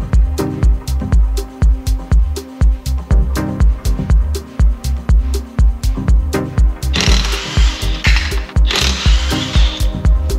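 Rapid bursts of an impact gun or ratchet loosen the wheel bolts on an Audi RS6 4.0 TFSI, loud, close and repeating in quick clattering pulses for the whole stretch, with hissing air between later bursts.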